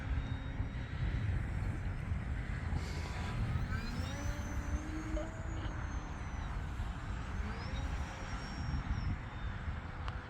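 An E-flite Decathlon RJG 1.2m RC model airplane drones steadily in flight, its small electric motor whining and shifting pitch as it passes, heard at a distance over constant wind noise.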